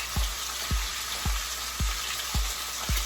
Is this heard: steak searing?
yes